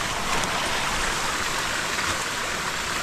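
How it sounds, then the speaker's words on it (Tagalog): Irrigation water rushes steadily into a rice paddy, a loud, close, unbroken splashing flow like a small stream, with no speech over it. "Oh, ang tubig ay yaong-yaon na naman."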